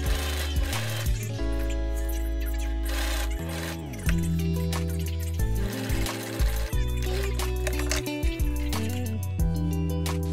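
Sewing machine running a seam down a frayed-fabric mini skirt, close and steady, with repeated short bursts and pauses as the stitching starts and stops.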